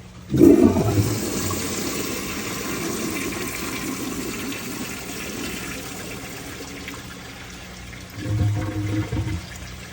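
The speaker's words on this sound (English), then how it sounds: "You can't expect the toilet to flush this, so it did okay." A 1978 American Standard Glenco toilet flushes during a performance test: a loud initial rush of water settles into a sustained swirling drain and refill, then a second gurgling surge near the end, with no talk.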